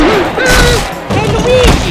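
Cartoon gunfire fills a Wild West–themed SMG4 Mario animation, with rapid, dense shots crackling loudly alongside voices and music.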